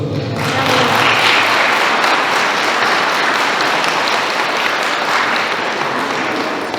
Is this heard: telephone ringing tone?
no